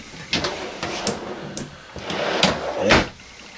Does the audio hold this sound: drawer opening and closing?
yes